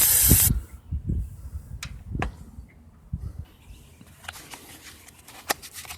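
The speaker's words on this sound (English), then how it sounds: "I'll spray out this connector just in case there's any crud in there" A short burst of contact cleaner sprayed into an electrical connector on a 2001 Cub Cadet 3184 hisses close up, then several brief, quieter pops and clicks follow over a low background.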